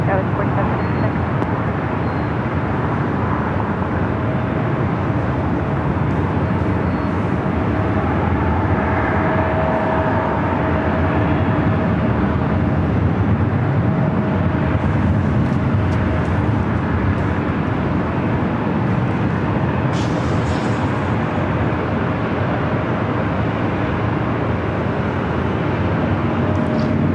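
A Boeing 787 Dreamliner on the runway at Los Angeles International Airport, runway 24 left, sends out a steady, broad jet roar that holds throughout, with a voice talking over it.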